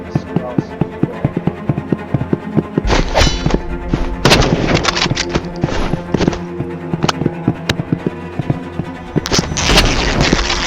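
Rapid automatic gunfire in the Roblox Rivals shooter game, dense bursts of sharp shots with heavy booms, continuous over the whole stretch and loud throughout.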